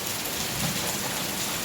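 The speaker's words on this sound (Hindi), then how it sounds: "आज ना बहुत तेज बारिश हो रही है" Heavy rain pouring steadily on a rainy day in Mathura, a dense, even hiss close by and unbroken for the whole moment, with no voices.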